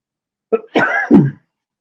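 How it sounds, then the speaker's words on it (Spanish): A short burst of two or three harsh coughs in quick succession, close and loud, then silence. "me va a dar como un pequeño ataque de tos"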